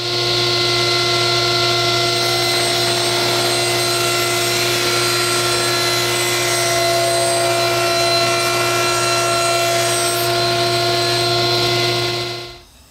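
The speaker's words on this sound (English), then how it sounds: "I'm gonna take it over to the table saw and cut the mating 14 degree bevel on this side" A table saw runs steadily while cutting a 14 degree bevel along a wooden strip, a loud continuous whine with stable motor hum lasting about twelve seconds before spinning down at the end.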